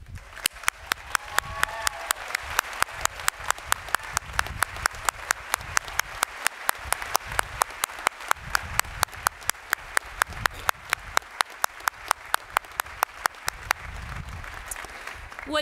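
Audience applause for the graduates' parents at West Virginia University's College of Law 142nd commencement, a steady wash of crowd clapping with sharp, evenly spaced loud claps near the microphone throughout.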